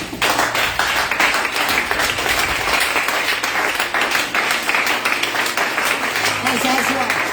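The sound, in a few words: audience applauding and acclaiming the Lord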